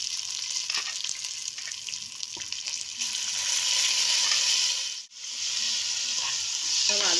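Rice, washed and drained, frying in oil in a single pot for Egyptian koshari, a steady close sizzle with scraping stir strokes throughout and a brief pause near the end.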